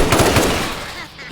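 MK7 turrets firing in a video game: a rapid, loud burst of automatic gunfire with dense repeating cracks that fades out within about a second.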